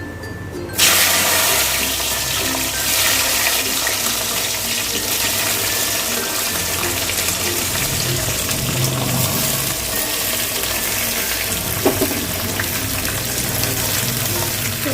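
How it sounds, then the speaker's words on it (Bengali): Jujubes go into hot mustard oil already crackling with dried red chilli and panch phoron for a sweet jujube pickle, setting off a loud, steady close-up sizzle that starts abruptly after a second and holds without speech. "ফোড়নটা ভাজা হয়ে গেল এবার আমি কুলগুলোকে দিয়ে দেবো"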